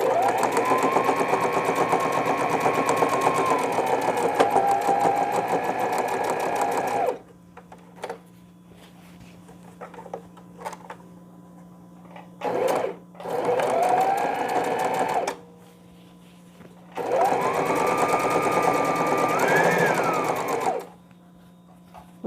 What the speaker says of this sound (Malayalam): ഒരു വലുതിൻ്റെ മേലെ ചെറുത് വെച്ചിട്ട് സ്റ്റിച്ച് ചെയ്യാം.